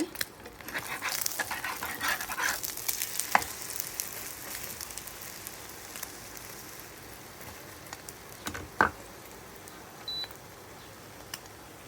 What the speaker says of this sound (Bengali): ডিমটাও ভেজে নিচ্ছে।